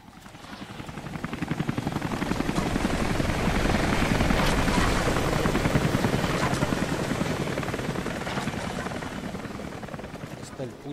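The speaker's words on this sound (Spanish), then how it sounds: "Helicóptero." A helicopter in the video game Rise of the Tomb Raider thuds with rapid rotor beats that swell louder toward the middle and then ease slightly, a close, continuous chopping drone.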